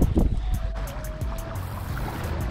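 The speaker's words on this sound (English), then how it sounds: "this is crazy wind, guys" Strong outdoor wind gusts hard, roaring and buffeting loudly and continuously at close range, with water-like rumble beneath it.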